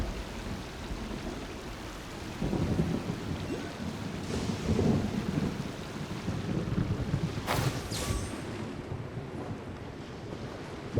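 Rumbling thunderstorm on Seirai Island in Genshin Impact, a steady wash of rain and wind with low thunder swells and a sharp crack near the end, no voices.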